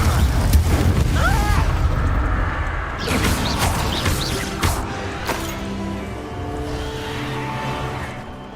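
Confringo fire spell blasting in the Hogwarts Legacy game, a loud, dense burst with crackling booms and smashing debris, followed by rumbling decay, with voices briefly heard in the game mix.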